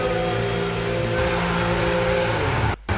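F1 car in the F1 25 racing game pulls out of the pit box at Silverstone, its engine screaming in a loud, steady high-revving drone with layered whine, cutting off abruptly near the end.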